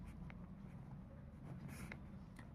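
A pen scratching across paper with soft, quick strokes during math working, faint and close, with no voices.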